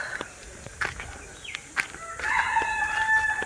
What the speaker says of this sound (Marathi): हा कोंबड्याचा आरवण्याचा आवाज